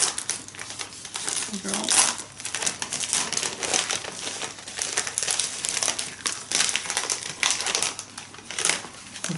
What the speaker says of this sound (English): let's see if I can rip this one off easily